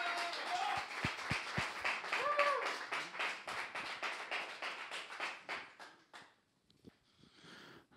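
Applause and whoops from a live music broadcast audience in a studio at Open Media, with several sharp individual claps standing out early, the clapping thinning and fading out after about six seconds before a brief faint return.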